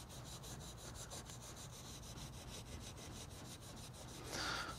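Hand polishing of bare uncoated metal with Blackfire polish, a faint, steady back-and-forth rubbing in even strokes, close and quiet, with a brief brighter swipe near the end.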